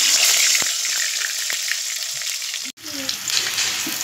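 Cut potatoes hit hot mustard oil seasoned with salt and turmeric in a wok, giving a loud, steady, close sizzle and crackle that continues almost without pause.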